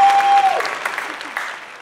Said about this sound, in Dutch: Dus echt even een staande ovatie en een applaus voor Myron en Nicole.